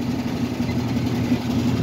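A vintage Edison model 204001B thin and lite fan motor running on high, giving a steady, close, even hum with a faint tonal drone and no pauses.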